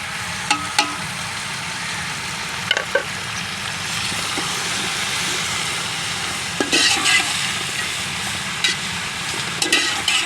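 Tomatoes and green chillies frying and being stirred in a pan with garlic and ginger, a continuous soft sizzle with a few sharp clinks from the utensil against the pan.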